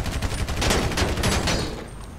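Rapid gunfire in LSPDFR, a police mod for a highway shootout game: a dense, loud burst of repeated shots rattling continuously for about two seconds with no pause.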